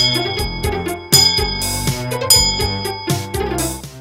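A school bell chime rings a bright, tonal melody of repeated struck notes with a steady rhythm, fairly loud and alone.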